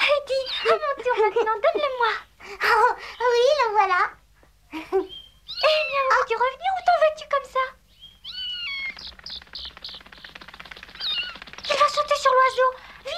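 A kitten gives several high, wavering meows in an animated cartoon, mixed in among frequent girls' voices and bird-like chirps.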